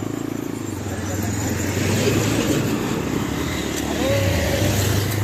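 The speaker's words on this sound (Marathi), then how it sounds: "हे रस्त्याला एकदा गाड्या फार चालत्यात" Vehicles passing on a busy road, a continuous rumbling engine drone that swells as one vehicle draws near, with voices faintly mixed in.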